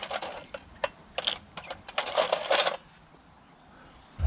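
A broken Craftsman wrench tossed into a junk box of tools, giving a scatter of sharp metallic clanks and rattles over about three seconds, then quiet.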